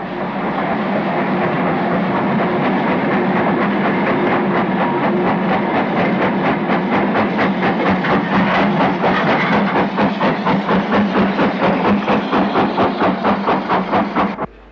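A steam tank locomotive hauls a train banked by the 1950-built tank engine Repulse, loud close chuffing exhaust beats quickening into a regular rhythm over hissing steam.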